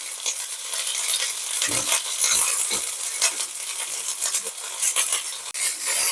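Green chillies, some ripe red ones among them, frying in hot oil for a gongura chutney, a loud close crackling sizzle with a few stirring scrapes, no voices.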